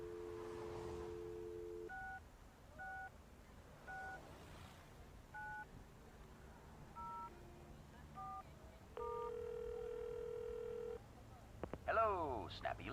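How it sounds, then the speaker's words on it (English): Telephone in the Leisure Suit Larry Reloaded video game: a steady dial tone, a series of short touch-tone dialing beeps, and a longer tone, followed by a voice at the end. "You pick up the phone, and to your delight, you get a dial tone."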